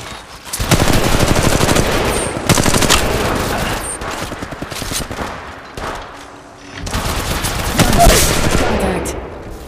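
Automatic gunfire from a mobile battle-royale shooter, Apex Legends Mobile, rattling in long dense bursts with short gaps between volleys, loud and continuous across most of the stretch.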